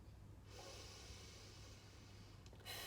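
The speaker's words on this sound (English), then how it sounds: "Fill up completely and let it all out." A slow, deep breath drawn in and let out during a calm guided breathing exercise, heard as a soft, steady airy rush close to the listener, with no talking over it.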